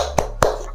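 Two sharp hand claps, evenly spaced, during a children's clapping game in a primary-school Catholic religion lesson; loud and close, with no talking.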